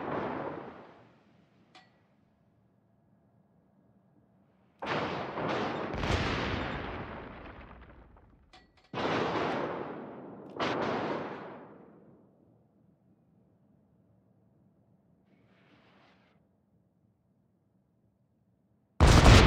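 Destroyer naval guns firing in a naval warfare video game, heavy booming salvos in several separate bursts with long rumbling decay, broken by quiet gaps and ending on a sudden loud blast.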